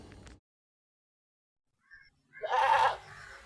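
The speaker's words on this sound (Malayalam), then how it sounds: "ഫസ്റ്റ് പ്രസവം കഴിഞ്ഞ ഒരു നല്ലൊരാട് മലബാരി ഇനത്തിൽപ്പെട്ട" A Malabari goat that has kidded once lets out one loud, drawn-out bleat after a stretch of near silence. It is close and clear, with a faint short sound just before it.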